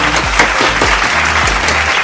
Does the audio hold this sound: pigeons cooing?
no